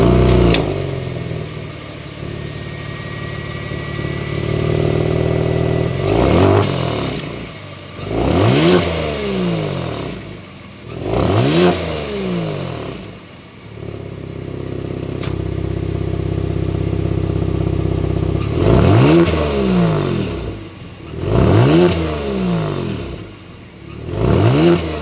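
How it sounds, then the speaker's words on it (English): 2022 Genesis G70 Launch Edition with a 3.3 liter twin turbo engine and variable exhaust revving repeatedly, a series of sharp rising blips with a throaty idle between them, loud and close, with no talking. "I'm ready to hear the exhaust note with that variable exhaust sound"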